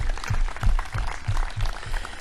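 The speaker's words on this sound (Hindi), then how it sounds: "एक बार उनके लिए जोरदार तालियां बजाओ भाई" A large crowd at a yoga session with Swami Ramdev claps loudly and steadily for about two seconds, with heavy low thumps recurring in a rough beat under the dense clatter.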